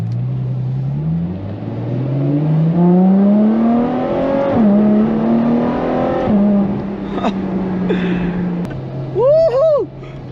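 A Ferrari F12 TDF engine accelerating hard on a narrow country lane, rising revs through several gear changes, loud and close from inside the car, then settling to a steady drone with a brief high whine near the end.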